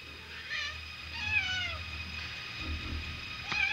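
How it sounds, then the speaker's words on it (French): Several cats meow indoors, a few drawn-out cries spaced across a few seconds, fairly close and otherwise alone without talk. "vous n'avez pas mal des chats ici"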